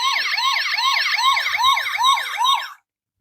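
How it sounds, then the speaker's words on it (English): A Transformers Animated Bulkhead leader class toy in armored SWAT van mode emits an electronic wailing siren, loud and close, cycling rapidly about eight times before cutting off abruptly. "we get a flashing siren sound"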